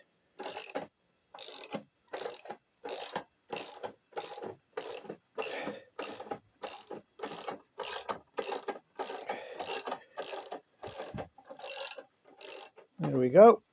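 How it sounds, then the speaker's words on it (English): A jack is worked to lower a Triumph Bonneville 865 EFI motorcycle: a long run of evenly spaced ratcheting clicks, about fifteen in a row, close and fairly quiet, ending in a louder final movement. "Right, I'll just lower it down off the jack."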